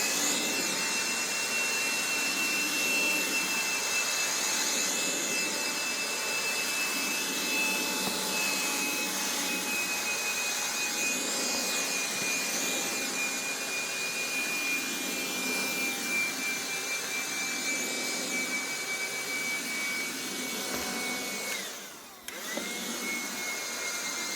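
A Black+Decker cordless handheld dustbuster with crevice tool and extension whines steadily at close range with a high motor tone, briefly bumping and shifting pitch near the end.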